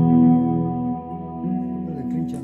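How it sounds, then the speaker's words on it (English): A sustained electric guitar chord with a shimmering, slightly wavering chorus effect, ringing clearly and fading slowly. "I got chorus on this part."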